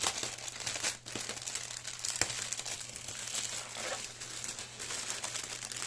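Crinkly plastic packaging of a diamond painting kit being opened, a steady close rustle and crumple with a few sharp tearing crackles and a low hum behind, no one speaking.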